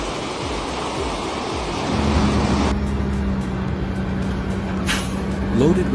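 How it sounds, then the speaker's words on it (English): A red truck loaded with massive logs rumbles down steep slopes, its engine droning low and steady with a brief hiss partway through, while a narrator speaks over it. "Loaded with massive logs, this red truck descends steep slopes and navigates tight corners with astonishing control."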